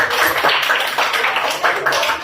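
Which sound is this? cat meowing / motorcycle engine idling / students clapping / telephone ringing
students clapping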